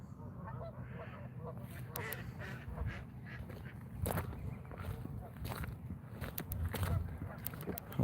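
Geese honk and quack in a flock near the water outdoors while footsteps crunch and a voice talks over them, the calls rising and falling throughout at moderate distance.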